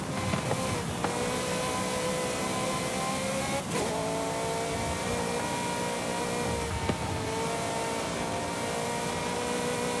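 A McLaren F1 engine in the Forza Horizon racing game: a loud, steady, high engine drone that runs unbroken throughout, with faint tire or road noise and no voices.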